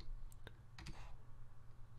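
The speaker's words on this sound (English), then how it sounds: "press the CTRL key on your keyboard once while holding down the left mouse button" Sharp clicks from a computer keyboard and mouse, a few distinct taps near the start and middle over steady low background hum, no voices.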